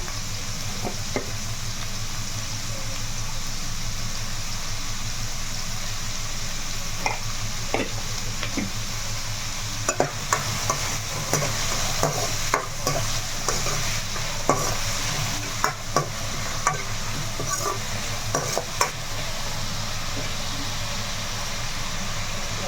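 Onions with salt sauté in a pan while being cooked for a chicken curry, a steady loud sizzle over a low hum, broken by repeated sharp clinks and scrapes of a spoon stirring, with no talking.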